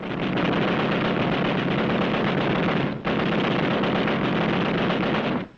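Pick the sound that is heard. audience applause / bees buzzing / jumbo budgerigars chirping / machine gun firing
machine gun firing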